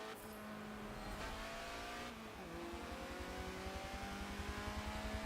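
A 1975 Fiat X19 in Forza Motorsport 7 pulls away, its small engine droning and climbing through the gears with a steady buzzing pulse, loud and close, with a brief gear-change dip and no voices.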